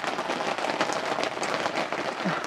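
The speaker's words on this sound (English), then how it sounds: "Raining again." Rain patters steadily on the plastic skin of a garden polytunnel, a dense even hiss of drops heard from inside, fairly quiet and with no voices.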